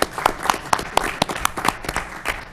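A small gathering at a city council meeting gives a brief round of applause, a sparse, fairly close patter of separate claps that thins out within a few seconds.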